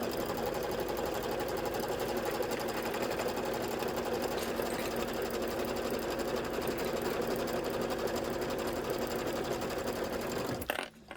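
Sewing machine stitching basting lines on a Santa Cinch Sack project, running as a steady, even mechanical whir with rapid needle chatter that continues unbroken and then stops abruptly at the end.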